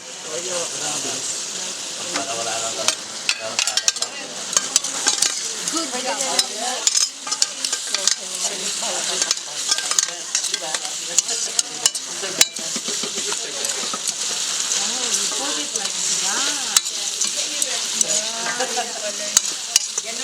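Minced pork with soy sauce stir-fries in a pan for Thai basil pork, a steady bright sizzle with a spatula scraping and clinking throughout while people talk intermittently.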